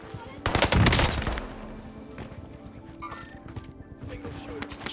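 Rapid SMG fire rattles in a shooter game on a new map, a loud close burst of shots peaking early, followed by lighter scattered fire and game clatter in the background.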